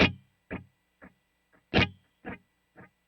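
An electric guitar runs through an HX Stomp on the Dual Cali preset with Adriatic delay, playing seven separate distorted stabs in a loose rhythm, each cut short with only a faint delay tail in between.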